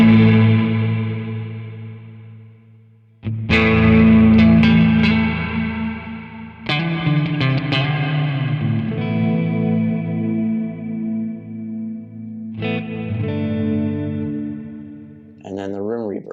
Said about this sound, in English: If I turn it down to a spring reverb,